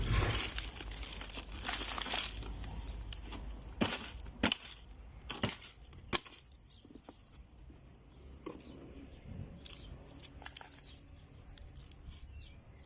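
Potting soil is emptied out of a bag on a balcony for planting tomatoes and peppers, giving close, quiet crinkling and gritty scraping in uneven bursts with a few sharp rustles.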